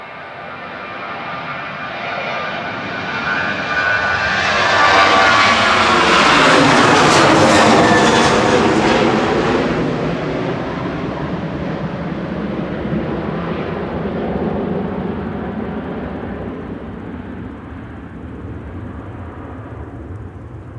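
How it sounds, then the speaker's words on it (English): EasyJet jet airliner from Paris Charles de Gaulle landing at Manchester Airport, a loud roaring engine whine that swells as the plane passes close overhead, then a broad rumble trailing off. "On short finals, EasyJet from Paris Charles de Gaulle, flight 2108"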